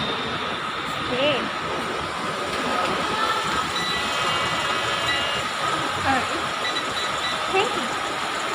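Delhi Metro train running on the line between Faridabad and Sarai, a steady broadband rumble of the rolling carriage with faint wheel squeals, heard from inside the coach under intermittent passenger chatter.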